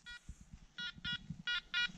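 A Makro Multi Kruzer metal detector working at 5 kHz over a small buried clasp in a field gives short electronic tone beeps: one, then two close pairs, a quiet, clean signal with faint handling noise underneath.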